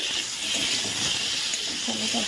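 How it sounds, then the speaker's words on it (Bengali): Pointed gourd (potol) frying in a pan, giving a steady, loud, even sizzling hiss throughout with no breaks. "পটলটা ভাজা হচ্ছে"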